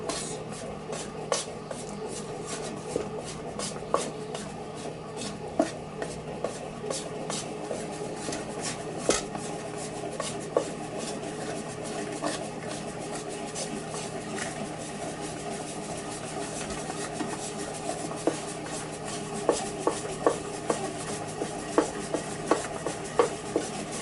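A small kitchen machine kneads heavy bread dough at home while a spoon helps push it around, giving a steady low motor hum with many light clicks and scrapes throughout, fairly quiet and with no talk.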